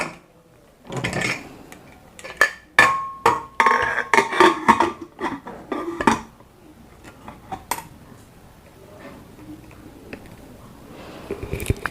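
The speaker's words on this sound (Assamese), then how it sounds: "মই এতিয়া আলু কেইটা কুকাৰত দি দিও বইল হবৰ কাৰণে" Potatoes dropped into a pressure cooker for boiling: a series of sharp, close knocks and clatters on metal, busiest in the first half, then sparse faint taps.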